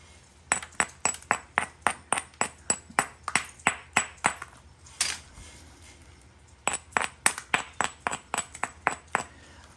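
Stone being knapped with natural tools, struck in a long run of sharp, high ringing clinks at a steady, rapid rhythm, pausing briefly midway before resuming; close and clear with no talking.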